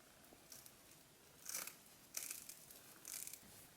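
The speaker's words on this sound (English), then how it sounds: "you're just going to cut away the mesh from the roll" Scissors cut deco mesh off the roll in a few distinct crisp snips, each with a brief rustle of the stiff mesh, close but fairly quiet in an otherwise calm room.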